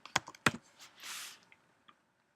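A few sharp keystrokes tapped on a computer keyboard, then a short soft burst of noise and a last faint click, heard close and quiet with no talk.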